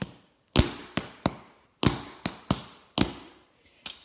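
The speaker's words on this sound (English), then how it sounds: "This tap shoe only has one piece of metal here on the for the tap on the" A tap shoe with a single metal tap on heel and toe strikes a hard floor in about nine crisp, bright clicks. They come in uneven rhythmic clusters, close and clear with short decays and no talking.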